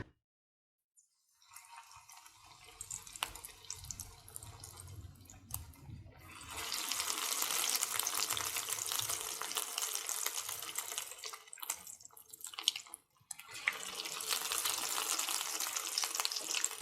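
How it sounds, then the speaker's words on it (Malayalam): Egg and potato kababs drop into hot sunflower oil and fry with a loud, steady, close sizzling crackle that swells after a quieter start, briefly dips, then continues strongly. "ഇനി നമുക്കിതിലേക്ക് നമ്മൾ തയ്യാറാക്കി വെച്ചേക്കുന്ന എഗ്ഗ് കബാബ് ഇതിലേക്ക് ഇട്ട് കൊടുക്കാം"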